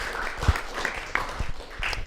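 An audience applauds a high school group invited on stage, a brief burst of steady clapping from a crowd, moderately loud throughout.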